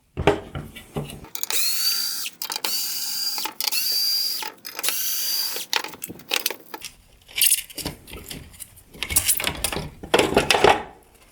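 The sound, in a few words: removing T15 Torx screws from a Rivian headlight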